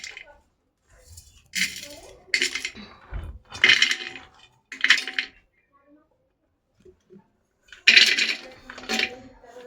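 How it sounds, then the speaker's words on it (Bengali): Butter paneer ingredients being tipped into a pressure cooker, a run of bright metallic clinks and clatters in bursts with pauses between, close and fairly loud, with a voice speaking at times. "আর এইগুলা সব আমি কুকারে ঢুকাবো।"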